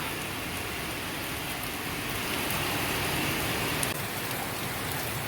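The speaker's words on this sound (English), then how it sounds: "You can see the amount of rain we're having." Heavy rain pelting down on a house-building site with an overhead sheet canopy, a dense, even hiss of drops striking surfaces that continues without a break throughout.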